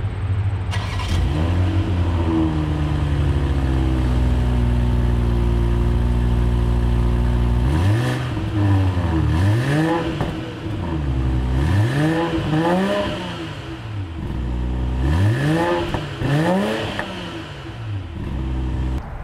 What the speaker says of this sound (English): I'll pop the hood up and start the engine so you can hear how this sounds like